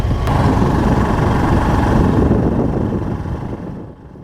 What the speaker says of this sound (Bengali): তালসারি বিচে এসে এই আমরা বাইকে করে যাচ্ছি